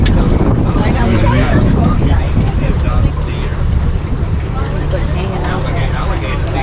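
A boat travelling along a bayou: a loud, steady engine rumble mixed with heavy wind buffeting across the microphone, while people talk over the noise.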